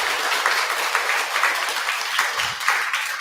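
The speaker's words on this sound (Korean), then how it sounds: "오늘 오신 모든 분들을 위해서 큰 박수 한번 부탁드리겠습니다" Steady, dense applause fills a temple dharma hall as a seated crowd claps together, even and moderately loud for a few seconds without a break.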